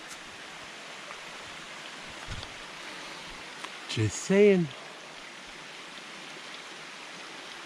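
River water flows steadily beside a campsite with a lean-to, a soft continuous wash heard throughout, with a brief spoken remark and a short vocal sound partway through.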